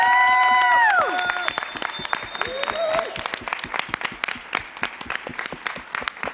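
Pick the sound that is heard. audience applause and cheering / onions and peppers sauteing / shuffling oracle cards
audience applause and cheering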